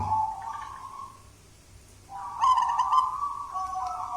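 A perkutut (zebra dove) coos in a quiet setting, one soft call early and a louder, longer run of cooing notes in the second half, with no voices.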